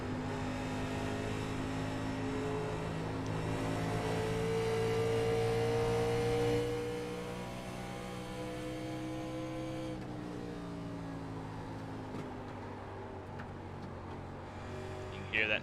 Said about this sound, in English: You can hear that tire scrub as he's trying to get this car pointed